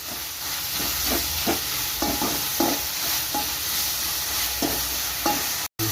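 Curry leaves fry and get stirred in oil in a pan for a yam curry, a continuous sizzling hiss broken by repeated scraping stirs, with a brief dropout near the end.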